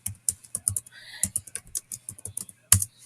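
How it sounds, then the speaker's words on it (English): Someone types on a computer keyboard, a quick irregular run of close, crisp key clicks with one louder tap near the end. "I can just quickly go up to this search and I can type what I'm looking for."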